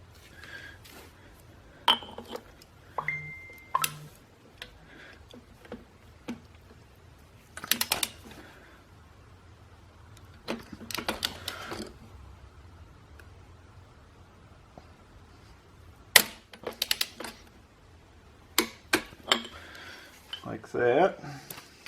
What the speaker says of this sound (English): So let me get out my torque wrench.